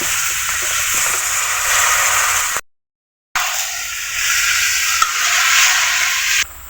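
Pointed gourd, ridge gourd and vegetable stems hit hot oil in a frying pan and are stirred, giving a loud steady sizzle with a brief silent gap midway, then continued frying and scraping.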